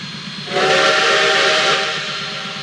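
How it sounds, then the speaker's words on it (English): A loud steam whistle blows close by with a steady, bright tonal blast over hissing steam. It holds for well over a second before fading, with no voices. "Their conversation was suddenly interrupted by a steam whistle."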